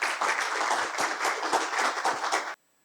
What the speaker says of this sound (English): Let us put our hands together to give a round of applause to our speaker, Toastmaster Tebby Joy.